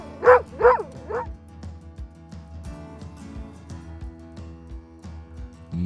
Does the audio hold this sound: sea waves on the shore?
no